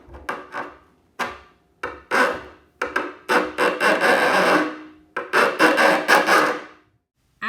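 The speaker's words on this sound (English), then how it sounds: "we're just going to take a file and file down each screw like this" A hand file rasps down the tips of screws driven through cedar boards, a series of close, gritty scraping strokes in short bursts and longer runs, with brief pauses between.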